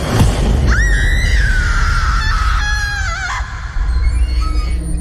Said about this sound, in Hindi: जैसे ताला टूटता है, औरत की चीखने की आवाज सुनाई देती है।